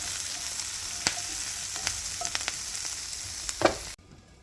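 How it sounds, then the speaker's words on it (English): Food browning and sautéing in a hot pan gives a steady, close sizzle with scattered crackles and pops, then cuts off abruptly near the end. "First we brown it. Then we saute."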